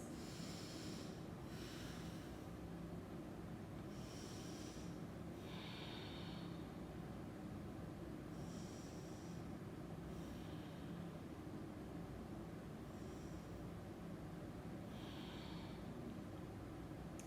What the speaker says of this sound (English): The Ujjayi breath is the inhale and exhale through the nose.